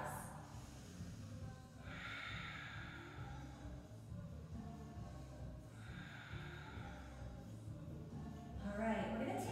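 Deep, slow breathing during a yoga exercise, two long audible exhales spaced a few seconds apart, close and soft, with an instructor's voice in the background.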